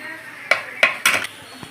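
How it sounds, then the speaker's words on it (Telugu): A metal lid is set onto a cooking pot on a home stove, giving a few sharp, close clanks and a brief scraping rattle over quiet background. "మూత పెట్టేద్దాం."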